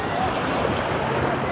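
Sea waves wash ashore on Boracay Island in the late afternoon, a continuous close hiss of surf mixed with wind noise on the microphone.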